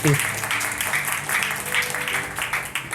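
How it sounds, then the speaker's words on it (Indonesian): A church congregation applauds in praise during a worship service, steady clapping filling the space for several seconds at moderate loudness with a voice speaking over it. "Berikan tepuk tangan untuk Tuhan."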